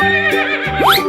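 A cartoon horse whinnies in a loud, close, high rising neigh that sweeps upward near the end, with no talk over it, set among a run of animated animal sounds.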